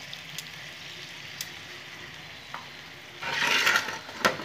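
Masala spices sautéing in a pan for gandharaj chicken, a soft steady sizzle that grows louder and brighter near the end, with a few sharp clinks of a spoon scraping the pan.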